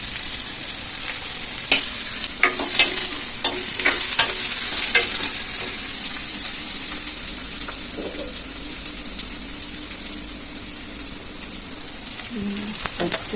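Onion, garlic, tomato and curry leaves sautéing in a pan for a mother's fish curry, with a steady sizzle broken by repeated scraping stirs and clinks of a spoon, close and fairly loud.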